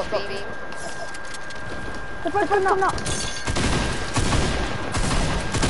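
Rapid bursts of video game gunfire crackle under excited, shouting players, growing denser and louder toward the end.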